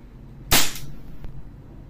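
A WE M92 Beretta airsoft pistol fires one loud, sharp crack at close range, followed by a faint second click a moment later, with no one talking.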